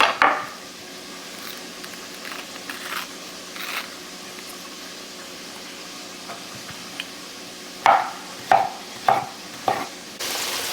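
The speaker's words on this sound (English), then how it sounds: "We're frying them up in avocado oil." Green bananas fry in avocado oil with a soft, steady sizzle, punctuated by clinking and scraping of a utensil against the pan, including a run of sharper knocks near the end.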